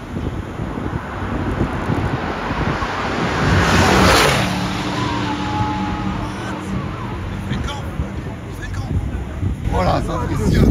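Race car passing at full speed on a track, a loud whoosh peaking mid-clip and fading away amid wind noise and crowd hubbub, with people talking.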